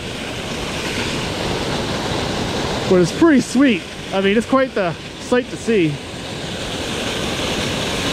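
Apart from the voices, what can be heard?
geyser water gushing from old mine shaft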